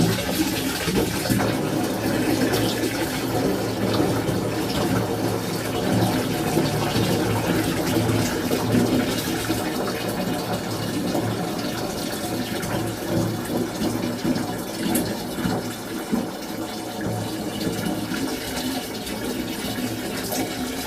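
Second batch of cooked sugar syrup being poured into liquid for a home brew mash, a steady loud splashing, gurgling pour that runs continuously and fades slightly near the end.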